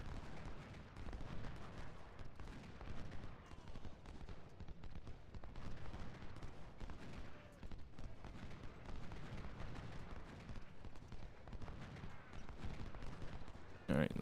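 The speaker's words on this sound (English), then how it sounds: "You can see 2 volleys here" Musket volleys and gunfire in the Civil War strategy game Ultimate General: Civil War, a dense continuous crackle of distant rifle fire and booming artillery rolling on throughout, fairly faint and steady.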